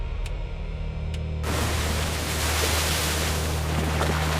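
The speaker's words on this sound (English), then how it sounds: "The rain is starting." Rain suddenly begins in Tokyo, a broad steady hiss that switches on abruptly and stays dense and even, over a low constant hum.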